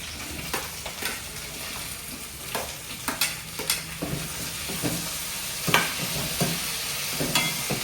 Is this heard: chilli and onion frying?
yes